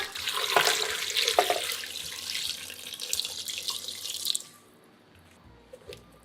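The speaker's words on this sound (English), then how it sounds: "And pour 1500 cc of water." Water pours steadily into a pot of pork ribs, winter melon and carrot for about four seconds, a bright rushing splash that stops abruptly, leaving a few faint clinks and quiet room tone.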